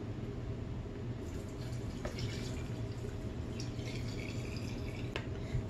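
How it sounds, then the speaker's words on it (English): Cool filtered water poured into a rose petal wine mix, a steady broadband wash of running liquid with scattered drips and splashes, close and continuous throughout without any talking. "Let's go ahead and add some cool water to the mix to cool that off so that we can add our yeast in."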